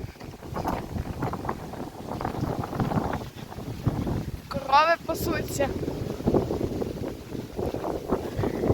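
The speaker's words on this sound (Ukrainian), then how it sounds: "Такий сильний вітер." Strong wind buffets the microphone with steady rumbling gusts in an open field while a person talks briefly, and birds chirp faintly in the background.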